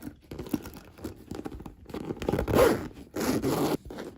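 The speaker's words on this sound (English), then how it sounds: "The zippers both kind of feel the same, opening and closing." A zipper on a Louis Vuitton Speedy B 25 Damier Ebene handbag is pulled open and closed, several short rasping zips close up, the last two longer and louder.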